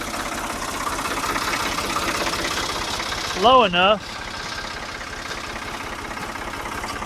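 The diesel engine of a 1975 Ford 550 backhoe idles steadily nearby, a constant low chugging rumble, with a short wavering tonal sound in the middle and someone talking briefly over it.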